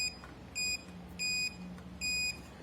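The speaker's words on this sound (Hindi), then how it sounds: "ऑफलाइन में सिर्फ बीप साउंड सुनाई देता है" A multimeter beeps during offline circuit tracing on a laptop motherboard: three short, shrill beeps at steady intervals over a faint low hum, with no speech.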